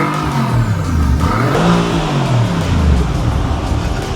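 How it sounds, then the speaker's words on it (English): Mercedes-AMG GT R engine revving with its exhaust button engaged, a loud close-up roar that climbs and falls through a couple of blips over a continuous rumbling idle. "Car is warm if you want to give it a couple of little revs."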